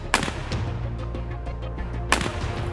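Distant gunshots ring out in Escape from Tarkov, with a sharp shot at the start and another near the end, plus a few fainter pops between them, echoing over a steady low ambient rumble.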